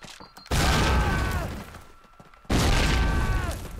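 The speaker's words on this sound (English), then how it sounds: "let's fucking just throw a fucking grenade over here" A grenade blast in the Call of Duty WWII shooter lands as two loud, broadband booms about two seconds apart, each hitting hard and then slowly rolling off, with faint game noise in between.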